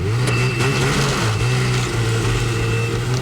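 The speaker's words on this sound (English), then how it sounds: "Snowmobilers in Vilas County started the new year revving their engines." Snowmobiles rev their engines on a winter trail in Vilas County, a close, loud, steady motor drone with a pitch that dips and rises in short revs. No voices are heard.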